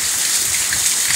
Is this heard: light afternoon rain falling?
yes